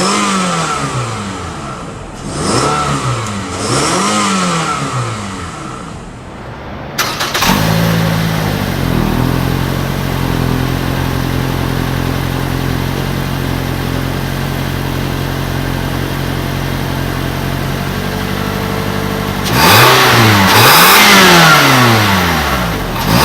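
A 2017 Toyota Camry XLE's 2.5-liter four-cylinder engine, heard up close revving in repeated rising and falling sweeps, then settling into a steady loud idle before another sharp rev near the end.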